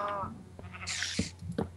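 A sheep bleats once in Minecraft, a short and fairly faint cry. A few soft thumps and scuffs follow it.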